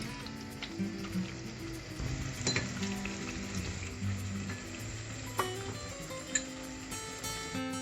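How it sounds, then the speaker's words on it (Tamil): Water bubbling and hissing in a clay pot of Sri Lankan sothi (coconut milk soup), a steady simmer with occasional soft clinks and faint tonal hums in the background. "நல்லா கொதிக்கணும் இந்த தண்ணி"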